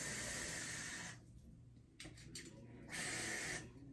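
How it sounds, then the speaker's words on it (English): Spray bottle mists a lime green wig in short hissing bursts, a long spray followed by several quick faint spritzes and another longer burst, close and soft. "we're gonna have to spray this down."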